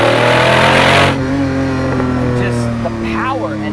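A Lamborghini Diablo GT with its 6.0 V12 revs loudly and close by on a rain-soaked race track, opening with a harsh roaring burst and then settling into a steady, droning engine tone.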